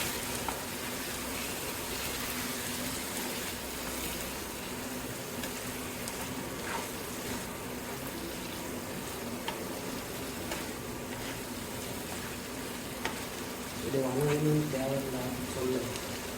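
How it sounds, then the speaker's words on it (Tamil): Mutton sautés in a pan with ginger-garlic and onion paste, a low continuous sizzle with occasional stirring clicks running beneath a person speaking for most of the stretch. "இப்போ மட்டன் நல்லா வணங்கிடுச்சு ஸோ இந்த மாதிரி பாருங்கள் நல்லா வதங்கிடுச்சு"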